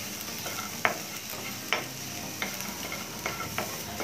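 Garlic and onion dry-roasting in a pan with no oil, a soft steady hiss broken by several sharp scraping strokes of a spoon at irregular intervals, close and fairly quiet with no talking.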